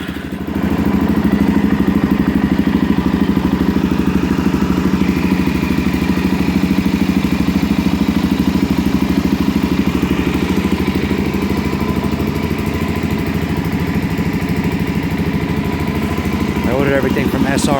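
A Suzuki DRZ400SM with a Yoshimura RS-2 exhaust and new jetting idles steadily and loudly close by, a smooth continuous engine drone that holds throughout.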